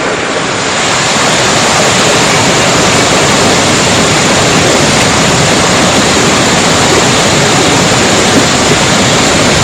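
A rushing mountain river pours between large boulders, a loud, steady roar of churning water that stays constant and close throughout with no voices.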